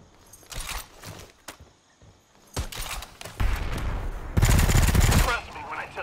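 Gunfire in the video game Predator: Hunting Grounds, with loud bursts of rapid automatic shots in several clusters and a sustained barrage near the end, mixed with footsteps and brief voices.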